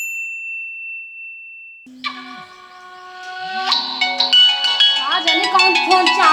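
A phone rings with a bright electronic ringtone, a high steady tone giving way to a chiming, rising melody that grows louder and busier.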